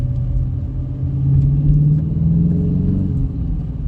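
A 2019 Dodge Challenger R/T with a six-speed manual accelerates up a highway on-ramp, its engine note a deep, loud rumbling drone that climbs in pitch as revs build, heard close from inside the car with no talking.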